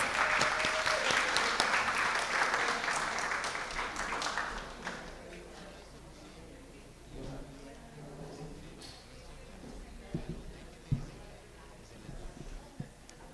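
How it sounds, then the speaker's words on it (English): A big round of applause for a council member at a senior volunteer recognition ceremony, loud and dense for about five seconds before fading into room murmur and scattered taps. "Let's give him a big round of applause."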